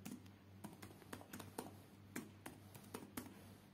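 Quick typing on a computer keyboard, a steady patter of close, light key clicks in short bursts, faint and alone with no voices.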